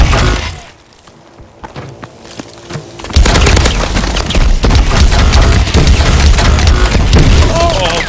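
Dense machine gun fire and explosions in a co-op match of Call of Duty: Advanced Warfare on PC: quieter scattered shots at first, then a loud, continuous barrage of rapid bursts and booms. Players talk over the gameplay.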